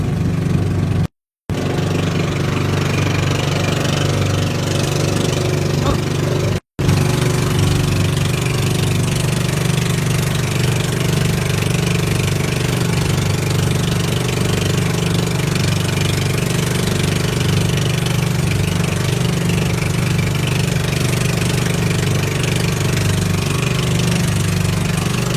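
A roofed motorboat engine chugs steadily at close range near Gaspar Island, a constant mechanical drone with two brief dropouts near the start.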